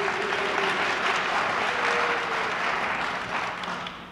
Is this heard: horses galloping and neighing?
no